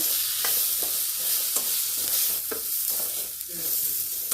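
Bitter gourd gravy sizzles in a pan as ground spice powder is stirred in and sautéed, a steady frying hiss broken by periodic scraping strokes of the spoon, with no talking.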